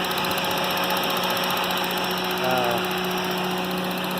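A Honda Insight with a swapped K24 engine idles with a steady, even hum and faint vibration, close by, no voices over it.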